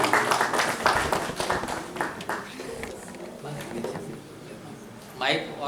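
An audience at a doctors' meeting in Jaipur applauds the president, with a burst of dense clapping at the start that thins into scattered claps and room noise.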